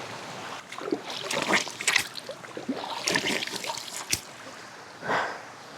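A clear, full village stream in Adukkam, Kottayam, flows close by, gurgling and splashing in uneven surges with intermittent trickles.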